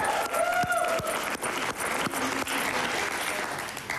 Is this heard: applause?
yes